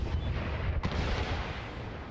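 Cannon fire against a fortress wall in Empire: Total War, a dense rumbling barrage with one sharper report standing out, heavy and continuous throughout.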